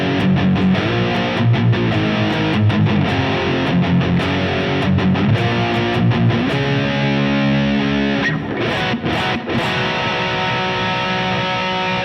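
Electric guitar played through a NUX Trident amp simulation with distortion, giving a loud, sustained, saturated tone with strummed chords and ringing notes, then a few short choppy hits near the end.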